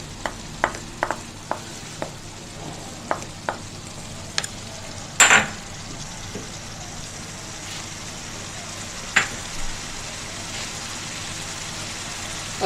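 Green chicken fries in a pan as fresh green coriander goes in and is stirred, giving a steady low sizzle with a string of sharp scraping and clinking spoon strikes, and one louder clatter partway through.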